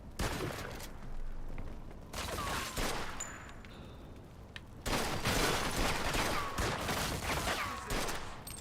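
Gunfire in Mafia II on PC, dense, rolling volleys of shots fairly near, pausing briefly midway before another sustained burst resumes.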